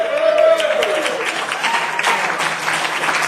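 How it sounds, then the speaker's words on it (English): Loud, close round of applause for a raffle winner whose number has just been drawn, brisk clapping from a room of people with a brief voice near the start. "Let's give him a round of applause."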